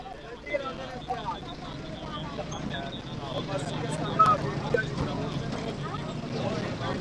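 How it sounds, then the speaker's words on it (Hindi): Busy street traffic in Gujrat, Pakistan, with bicycles and horse carts, a steady roar of engines and road noise with scattered horns and clatter, continuous throughout, with voices talking in the background. "साइकिल है, घोड़ा गाड़ी है, ट्रैफिक है, शोर है"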